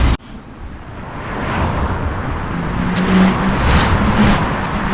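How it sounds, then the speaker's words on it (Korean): Cars pass on a road outside a town in Bosnia, heard from the roadside as a loud, broad roar of tires and engines that swells and stays steady, with a sharp thump at the start. "시내랑 멀지 않아서 그런지 차들이 서질 않네요"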